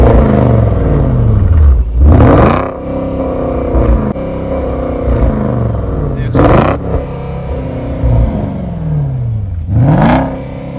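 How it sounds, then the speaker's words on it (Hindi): A Porsche Cayenne GTS exhaust is revved repeatedly, each loud blip rising sharply and then falling away in a long descending drone, with about four distinct revs spaced a couple of seconds apart, close by. "एग्जॉस्ट की साउंड सुना देता हूँ मैं आपको"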